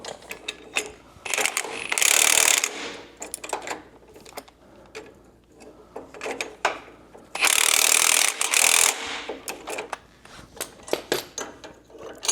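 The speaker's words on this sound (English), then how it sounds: "we're going to tighten them down just a little bit more" A QA1 spring compression tool is tightened down on a coil spring, producing mechanical ratcheting and grinding bursts, with two loud sustained stretches of tool noise between shorter clicks and rubbing sounds.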